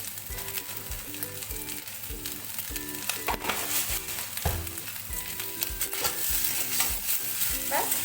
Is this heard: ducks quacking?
no